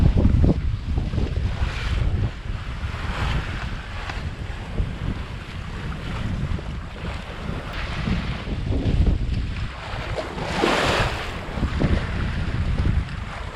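Wind rushes and waves wash steadily around a sailboat under sail on open sea, its motor off, during a passage from St Maarten to Grenada; a continuous loud roar with swelling surges and no voices.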